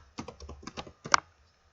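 Quick keystrokes on a computer keyboard as a spreadsheet formula is typed in Excel, a short burst of clicks followed by a louder final tap, close and alone.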